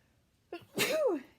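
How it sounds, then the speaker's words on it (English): A single loud, close sneeze with a short sharp intake of breath before it and a voiced burst trailing off. "Oh, I'm gonna sneeze."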